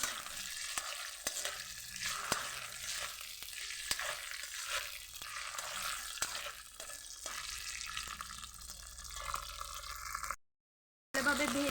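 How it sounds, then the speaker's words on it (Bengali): Ginger paste frying in a pan, a steady hiss of sizzling broken by regular light taps and scrapes of a spoon, close and fairly quiet, with a brief silent gap near the end. "আদাটা কাঁচা গন্ধটা যতক্ষণ না যায় ভালোভাবে ভেজে নিচ্ছি"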